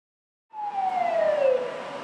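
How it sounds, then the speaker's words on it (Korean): An ambulance pulling away from a warehouse fire scene at a Coupang logistics centre, its siren starting abruptly and wailing steadily with a slowly falling tone, fairly loud and close. "쿠팡 물류센터 화재 현장에서 구급차 한 대가 빠져나옵니다."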